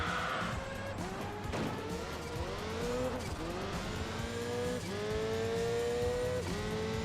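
A Valkyrie race car in the racing game Enthusia Professional Racing runs with mufflers, its engine droning and swinging through repeated revs and gear changes, with tire scrubbing under the steady engine note.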